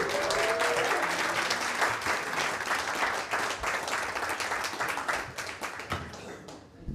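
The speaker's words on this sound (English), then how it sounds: "Give it up for Christian HB, everybody" A comedy club audience claps and cheers as a comedian is introduced, steady applause that thins out and fades toward the end.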